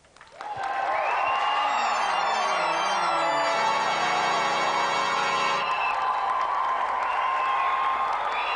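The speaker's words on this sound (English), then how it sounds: "Round of applause for Doug, everyone." A studio audience at a Gamesmaster game show breaks into sustained applause mixed with cheering, loud and continuous throughout, with a musical sting or synth tones layered over the clapping.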